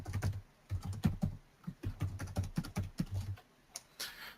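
Close computer-keyboard typing as a username and email address are entered: quick irregular bursts of key clicks with brief pauses between words, and a final louder keystroke near the end.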